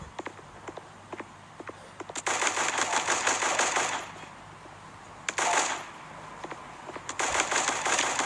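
Rapid bursts of video game gunfire ring out as an enemy is shot, with short isolated shots early, then two long sustained automatic volleys and a final burst, loud and close with no talking.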